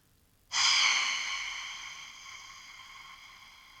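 One long deep exhale during a yoga breathing exercise starts abruptly and fades slowly over about three seconds. It is close and airy, with no talking.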